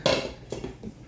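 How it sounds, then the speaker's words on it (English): A metal lid set onto a cooking pot: one bright clank followed by two softer rattling taps as it settles, close and alone. "voila, I got the right lid for the pot"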